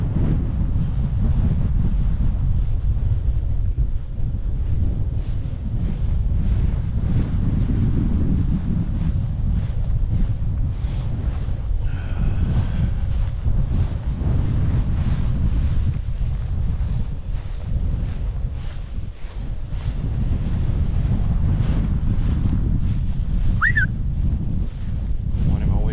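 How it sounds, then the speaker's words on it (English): Strong wind of about 20 mph with gusts to 35 roars continuously across the microphone outdoors, swelling and easing in gusts for the whole stretch, with faint voices now and then. "We got fabulous 20-mile-an-hour winds with gusting of 35"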